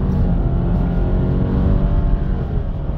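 A 2021 Subaru Legacy Limited XT with its 2.4-liter turbo engine pulls hard uphill from a standstill toward 100 km/h, a steady, loud cabin drone of engine and road noise rising continuously with no talking.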